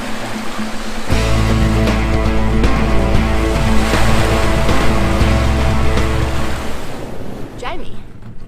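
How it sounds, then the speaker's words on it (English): A sailboat surfs down small ocean waves off New Caledonia near Bay du Prony, making a steady, loud rush of water and wind with broadband hiss and low rumble throughout, easing near the end. "did look like horrible waves now look like just lovely little surfy waves"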